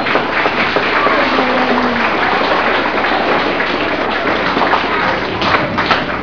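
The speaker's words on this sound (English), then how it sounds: "let's give your parents some applause now for being here" An audience of children and their parents breaks into sustained applause, a dense, even wash of clapping that stays steady throughout with a few muffled thumps.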